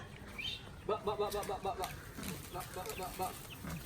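Several chickens cluck and chirp in a quick, rhythmic burst close by, with voices and outdoor background noise around them.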